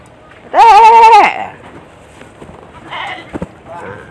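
A goat gives one loud, drawn-out bleat up close, lasting under a second, followed by quieter scattered rustles and faint animal sounds in the background.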